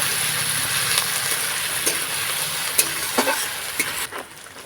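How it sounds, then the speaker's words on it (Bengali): Onion fries in a pan for an egg-and-onion dish, a steady hiss broken by several sharp scrapes and clicks as it is stirred, fading slightly at the end. "পেঁয়াজটাকে নাড়াচাড়া করে হালকা ভেজে নেব"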